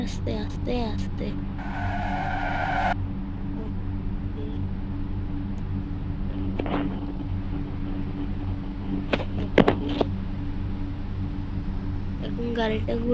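A car in a 3D driving class video game turns and skids, giving a brief tire squeal over a steady engine drone while a voice talks intermittently.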